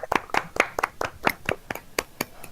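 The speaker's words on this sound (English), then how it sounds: "We applaud you again" A run of sharp, evenly spaced hand claps from podcast hosts, about a dozen crisp slaps close to the microphone, steady and loud with no talking over them.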